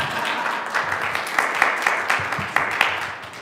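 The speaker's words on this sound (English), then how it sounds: "Big round of applause for Andrew, everybody." Light, scattered applause from a small audience at a faith livestream event; thin, uneven clapping with a few sharper claps, heard alone at moderate level for a few seconds.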